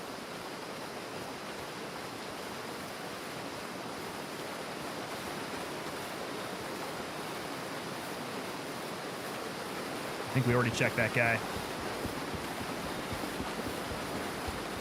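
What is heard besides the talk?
loud rushing water in the video game Gray Zone Warfare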